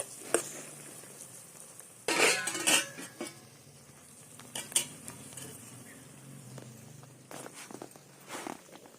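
Food cooked outdoors with tomatoes in a smoking pan sounds as irregular scraping and clattering of a utensil against cookware, with sharp bursts, a faint sizzle underneath and quiet gaps between.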